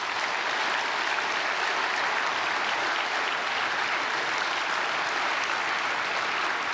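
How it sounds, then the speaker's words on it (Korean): A church congregation applauds to welcome newly registered members during a Sunday worship service, a broad, even wash of many hands clapping that stays steady and full for several seconds without speech. "새로 등록한 분 박수로 맞이하겠습니다"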